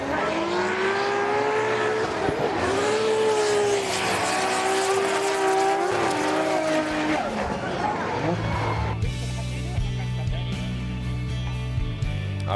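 Drift cars competing in a Formula Drift Japan top 16 battle at Sportsland Sugo, Miyagi, with loud engines revving and rising in pitch, then a shift to a different mix with steady tones, under a busy crowd and commentary atmosphere.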